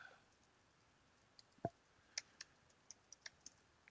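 Computer keyboard typing a password, a sparse run of light clicking keystrokes at an uneven pace, quiet and close against a near-silent background.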